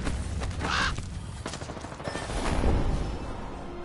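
Gunfire in the Apex Legends video game: dense bursts of rapid automatic shots and mechanical weapon clatter, loud and continuous through the moment, with no voices on top.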